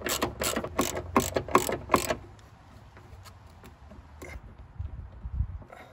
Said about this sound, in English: Tighten up the top mount bolts.